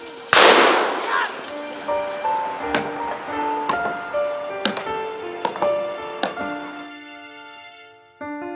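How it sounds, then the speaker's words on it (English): MG-42 machine gun firing at a World War II reenactment: a loud opening blast followed by sharp, widely spaced reports that ring and echo over a low background hum. "Like this MG-42 machine gun."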